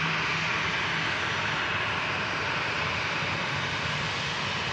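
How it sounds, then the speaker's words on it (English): A Virgin Atlantic Airbus A350 on runway 23 left spools up its jet engines for takeoff on a transatlantic flight to Orlando, producing a steady, loud, broad roar heard from a distance without voices. "Virgin Atlantic Airbus A350 about to spool up from runway 23 left for its flight over the Atlantic"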